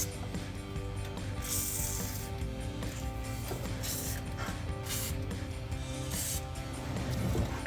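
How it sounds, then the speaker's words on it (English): A WD-40 aerosol can hisses in several short sprays of penetrating oil onto a 1999-2004 Mustang GT's exhaust hardware, separated by pauses, with clinking and scraping of metal parts close by. "spray all the factory hardware with penetrating oil. I'm using some WD-40 here in this case"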